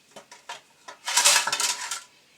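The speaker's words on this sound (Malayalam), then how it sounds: "ഇതൊന്ന് നമുക്ക് മൂടി വെച്ചൊന്ന് വേവിക്കാം" A lid set onto a cooking pot of mango curry, a few light metallic taps followed by a louder clattering rattle as it settles, close and alone.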